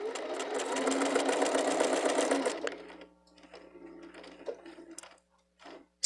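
A sewing machine runs steadily through fabric while a small bag is sewn, a loud close whir for a couple of seconds that stops abruptly, followed by quieter handling clicks and rustles.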